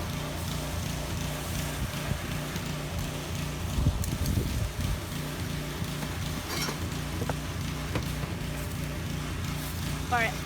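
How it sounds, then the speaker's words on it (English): Blustery outdoor wind in a garden being prepared for spring, a steady low rumble of gusts buffeting the microphone throughout, with a stronger burst around the middle. "Sorry about the wind, it's a little windy today"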